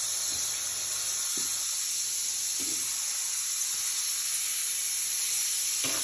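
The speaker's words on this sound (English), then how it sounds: "we're just going to let these brown just a minute because these are so thin" Thin cubed steaks browning in a hot pan give off a steady, fairly quiet sizzle and hiss that runs the whole way through, with a few soft knocks and no one talking.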